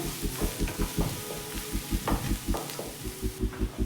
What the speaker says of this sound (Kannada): ಈ ಲೆವೆಲ್ ಫ್ರೈ ಮಾಡಿಕೊಂಡ್ರೆ ಸಾಕು.